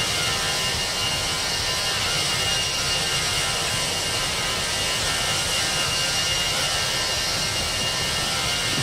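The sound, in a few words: Airbus A319 jet engines in video game X-Plane 11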